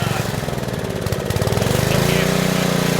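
A small Generac generator engine with a new carburetor runs close by, its rough, throbbing drone steady throughout, rattling and bouncing on a loose rubber mount.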